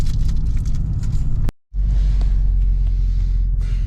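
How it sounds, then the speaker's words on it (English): Car driving through scrubland in the Simpson Desert, a steady loud engine and road rumble close by, broken by a brief drop-out near the middle before the same drone resumes. "now we're driving through scrubland"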